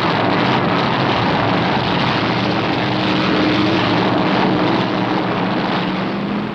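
Stock car engines at the 1965 Darlington Southern 500 roar together in a loud, steady, continuous rumble with wind buffeting, no voices heard.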